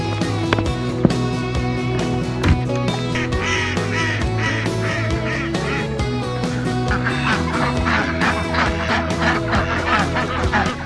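Chickens and ducks on a farm, being moved inside Premier One electric netting, keep up a loud, continuous chorus of honking and quacking calls with no one talking.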